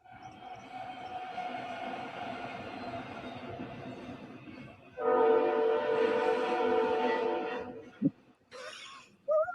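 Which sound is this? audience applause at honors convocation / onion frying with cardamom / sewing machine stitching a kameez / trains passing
trains passing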